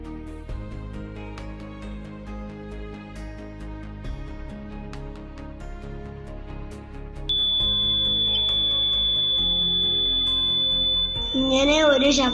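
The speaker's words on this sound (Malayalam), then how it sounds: "9 വോൾട്ടിന്റെ ബാറ്ററിയും അലാമിന് വേണ്ടി ബസറുമാണ്" A water tank overflow alarm built around a buzzer and a 9-volt battery emits a sustained, piercing electronic tone that cuts in partway through and holds steady, over a background of music.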